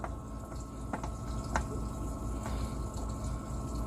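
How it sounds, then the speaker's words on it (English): A boat's air conditioner runs aboard a vessel with a Volvo Penta D9 575hp engine, giving a steady watery gurgling hum with a few faint drips and clicks, continuous throughout with no talking. "The AC on the boat's running."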